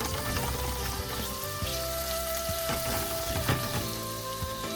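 Fatty intestine (bose andra) frying in a pan with steady loud sizzling and spattering, broken by scraping knocks of a spoon stirring the pieces around, close up with no talking.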